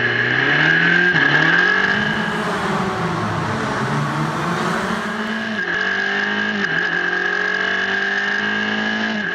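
An F4 race car accelerating hard from a standing start, loud and near, its engine climbing through the gears in rising whines with sharp drops at each shift, steady roar throughout.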